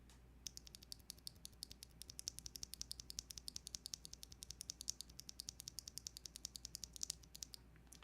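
Gateron mechanical key switches pressed and clicked loose, outside any keyboard, in a fast steady run of crisp close-up taps.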